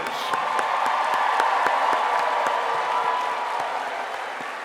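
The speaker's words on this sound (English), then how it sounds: "A round of applause for our grandmothers" A large commencement audience at Tuskegee University applauds grandmothers in a long, steady wash of many hands clapping, dense and sustained with some crowd noise, fading slightly toward the end.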